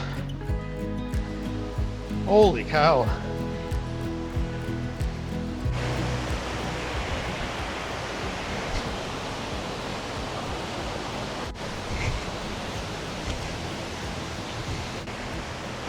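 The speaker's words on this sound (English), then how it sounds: "I can hear the waterfall." A waterfall in Skagway, Alaska roars as a steady, broad rush of falling water, loud and continuous after a short opening with a voice speaking over it.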